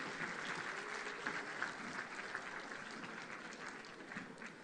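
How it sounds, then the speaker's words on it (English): An audience at a school annual day celebration claps steadily for young children's performances, a continuous, moderately distant crowd applause with slight rises and falls and no talking over it. "let's give all our little ones a huge round of applause"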